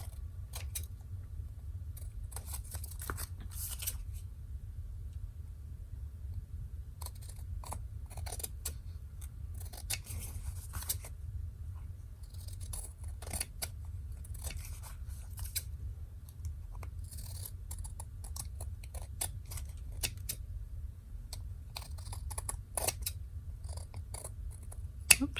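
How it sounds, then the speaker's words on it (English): Scissors snip through excess paper on a handmade stuffed envelope and tag book with a denim pocket embellishment, a long run of short close crisp cuts in irregular bursts over a quiet room hum. "All right, so I'm just going to cut off the excess."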